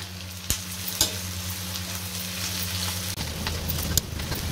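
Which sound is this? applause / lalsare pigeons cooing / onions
onions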